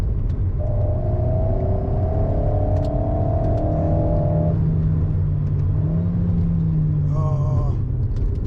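A 2023 Alpine A110S engine pulls hard on an open road, a loud rising whir and rumble that climbs, eases off, then surges again, close and continuous with no talking.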